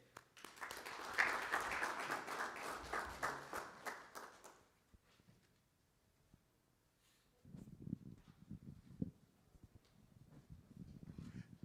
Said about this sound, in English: Please a round of applause as I welcome Mr.